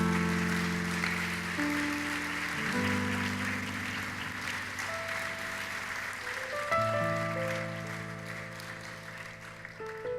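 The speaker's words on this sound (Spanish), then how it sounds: "Den un aplauso al Señor" A church congregation gives steady, sustained applause to the Lord while an organ or keyboard holds sustained chords underneath, with no talking over it.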